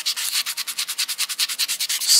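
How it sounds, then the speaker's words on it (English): A 400 grit sanding sponge rubbing along the seam line of a 1:350 Polar Lights Klingon K'Tinga battle cruiser plastic model kit, giving a quick run of about twenty rhythmic, close, hissy scraping strokes with no talk. "So I'm going over this with some 400 grit sanding sponge"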